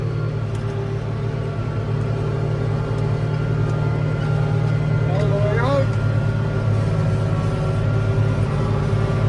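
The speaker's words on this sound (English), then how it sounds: "I'm going to chop up a double windrow here" A tractor pulling a forage chopper through a double windrow of third-crop hay gives off a loud, constant droning engine hum with a steady mechanical whir, close up, under brief talk.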